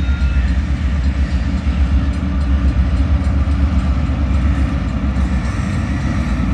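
A train passing through a Winnipeg neighborhood rumbles steadily with a low, continuous roar and faint clatter of rail cars, close and loud throughout.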